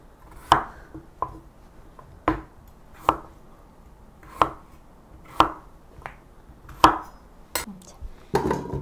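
Radish being cut into large chunks on a cutting board for Korean soup stock, a steady series of about a dozen sharp knife chops, close and distinct, each ringing off the board with short gaps between strokes.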